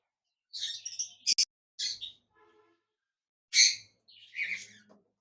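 A big pair of lutino cockatiels calls close by in a nesting box, sharp chirps and whistled notes in separated bursts with short silences between them.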